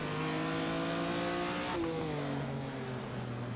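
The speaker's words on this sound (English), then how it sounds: "gonna brake heavily and go from fifth to third gear with the blip on the downshift" Ferrari racing engine in the Assetto Corsa video game, held at high revs under heavy braking, then a sharp throttle blip as it drops from fifth to third gear, the pitch stepping down and the engine droning on loud and close.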